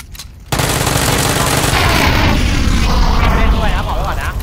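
A loud in-game explosion in the battle royale shooter PUBG booms in after a brief quiet, followed by sustained rumbling and crackling gunfire-like bursts, with players talking over the action.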